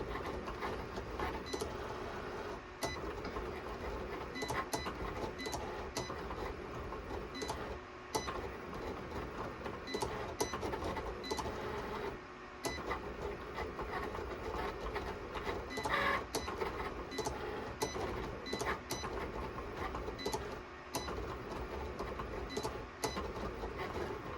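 A cutting machine slices permanent vinyl for a tumbler project, giving a steady mechanical whir and clatter with short pauses as the blade carriage moves back and forth, running continuously and close by.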